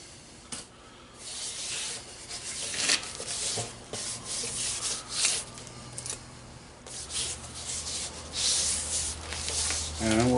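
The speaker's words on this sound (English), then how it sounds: "Now we're going to put some baby powder on the tube and rub it on there." Hands rub baby powder onto a rubber tire inner tube for a 1929 Whippet, making a steady, close, dry scrubbing and swishing that swells and fades in uneven strokes for about ten seconds.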